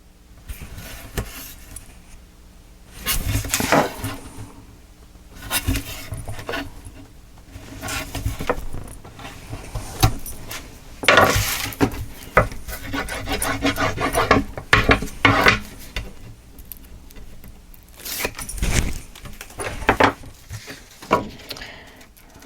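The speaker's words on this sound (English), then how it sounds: "we will cut off what we don't need" Paper being trimmed for a Magnolia Lane photo album, with repeated rasping, scraping strokes close by, coming in irregular bursts with short pauses in between, and nobody speaking.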